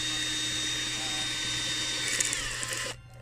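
A handheld tool bores a hole into a homemade Halloween decoration, giving a steady, close, high-pitched motor whine that runs for a few seconds before stopping abruptly.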